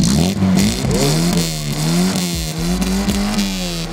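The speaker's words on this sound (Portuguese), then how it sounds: "olha o ronco, motor V8 turbo. Acelera aí." An old car with a V8 turbo engine, stated as about 400 horsepower, revving close by in repeated rising and falling surges over a deep steady rumble, loud and unaccompanied by talk.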